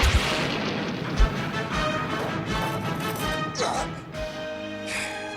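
Shock blast cannon fire from the 1984 Transformers cartoon: a dense, roaring energy-weapon barrage with sharp booming bursts, continuous and loud throughout, with a rising electronic whine near the end.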